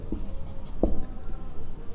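Pen or pencil scratching across paper while writing out a maths equation, soft continuous strokes with a brief louder tap near the middle, close and quiet with no talking.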